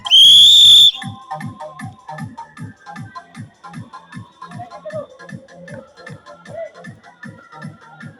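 A sharp, loud whistle blast opens a school running race, followed by a steady run of rhythmic footfall-like thumps with faint background voices.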